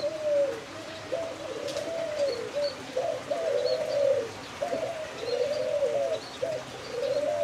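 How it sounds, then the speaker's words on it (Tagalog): An African collared dove at a zoo coos close by in repeated low, rolling phrases, with faint chirps from other birds in the background. "Ito yung African Collared Dove"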